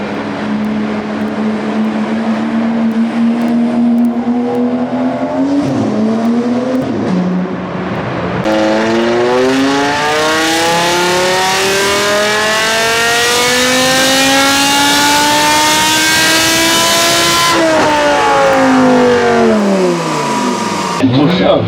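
Loud car engine revving hard and close, rising and falling in long sweeps of rising pitch, then dropping and climbing again, with no other sounds in the recording.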